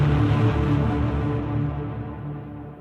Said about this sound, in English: In the cinematic pad, I use the distortion, even though the processing also uses distortion